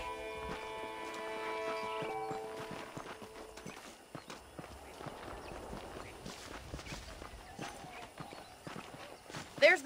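A horse clip-clops along at a walk in Red Dead Redemption on PC, with steady, fairly quiet hoofbeats under game music and a talking voice.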